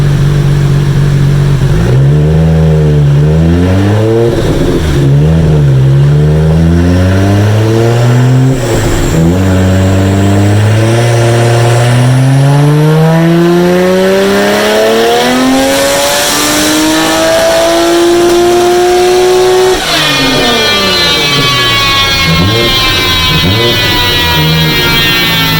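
A Nissan R32 Skyline GT-R with an RB28 engine revs hard on a dyno, climbing through repeated gear pulls in rising sweeps, very loud and close, ending in a high-pitched scream, with no talk.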